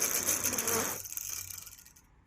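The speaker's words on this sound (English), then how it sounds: "if you're gonna spin it up, the best way is to blow in through the back" Breath rushes into the back of a 3D-printed ducted fan for about a second, then the rotor whirs on alone with a thin buzzing hum that gradually winds down and fades.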